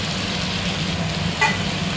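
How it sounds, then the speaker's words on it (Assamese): Chopped tomatoes fry with ginger garlic paste, salt and capsicum in a pan, giving a steady close hiss of sizzling oil with a brief brighter scrape of stirring partway through. "বিলাহী দি অলপ দেৰি ভাজি লম"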